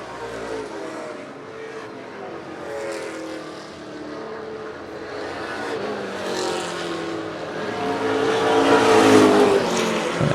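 Pro Stock race cars roar around a short oval track in a steady, loud engine drone that swells as cars pass close near the end, with no voices.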